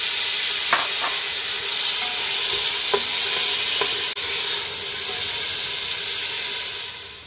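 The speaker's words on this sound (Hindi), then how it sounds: "अब इसमें यह सारा कीमा डाल देंगे।" Minced meat frying with garlic and cumin in a hot pan, giving a steady loud sizzle throughout with a few stirring clinks and scrapes.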